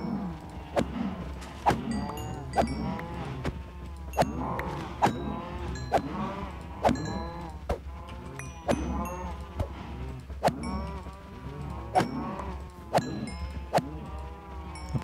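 Blocky video-game cows in the PeterCraft Minecraft survival world let out repeated moos and bleat-like calls, mixed with sharp rhythmic hit clicks as they are struck, fairly loud and continuous over a low game hum.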